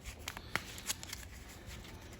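A card is drawn from a TBR deck in a few quick, soft, close-up papery flicks and taps against a quiet background.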